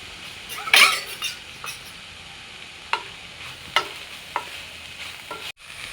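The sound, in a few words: stirring and frying momo filling with spices in a pan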